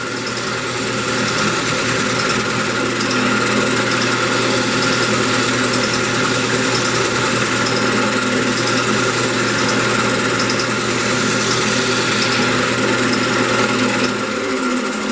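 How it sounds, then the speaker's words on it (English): Steady mechanical drone of a woodturning lathe spinning a mahogany candy dish blank while it is drilled out, a continuous hum with a constant low tone and broadband grinding, loud and close, running evenly throughout with no talk. "Just drilling up this face."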